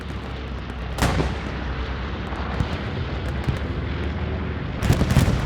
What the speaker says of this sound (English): Bombing run coming down on the backside of point.